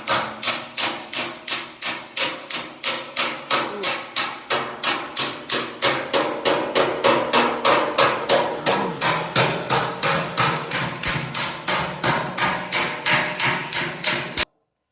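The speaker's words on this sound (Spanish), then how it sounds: "Cuando vos vas planchando la luz, el martillo deja una marca en la chapa" A hammer strikes car-body sheet metal held against a dolly in a steady, rapid series of sharp metallic taps, about three per second, ringing loudly up close for roughly fourteen seconds with no talking.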